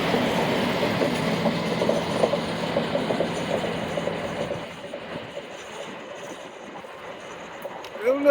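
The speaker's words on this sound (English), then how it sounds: "Oh look, and another train, Tom." A train rumbles past close by with steady clattering of wheels on rails, then fades to a quieter mechanical hum, and a voice briefly speaks near the end.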